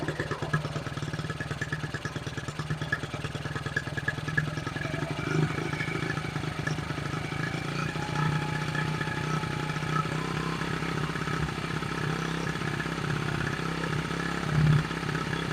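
A Honda XR75 motorcycle engine idles unevenly with a fast, rattly putter, held close and fairly quiet for the whole stretch, with a couple of small blips in revs.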